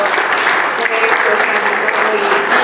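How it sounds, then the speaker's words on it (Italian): Sustained, loud, close applause from the audience at a Fratelli d'Italia political gathering, dense clapping throughout with some talk mixed in. "l'ex sindaco Carlo Maria, a cui facciamo un applauso sperando di averlo presto"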